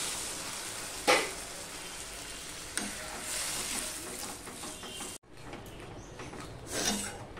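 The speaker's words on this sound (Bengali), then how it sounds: "মিনিট খানিক আমি এইভাবে কষিয়ে নেব" Sliced okra (bhendi) is stir-fried in a pan, giving a soft, continuous sizzle under close scraping and clattering of a spatula, with a sharp knock and a brief drop before the frying noise resumes.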